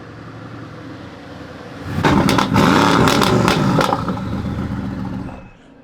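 A Mercedes-AMG GT S sports car pulls into a driveway, a loud engine rumble rising suddenly after a quiet lead-in with sharp revving bursts and clatter, then settling and fading as it comes to a stop.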